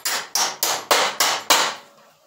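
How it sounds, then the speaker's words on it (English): Six sharp hammer blows pounding a screw, struck close and in a fairly even rhythm, each crack ringing briefly before the next, with the last blow fading into quiet. "it is hard to pound with a hammer"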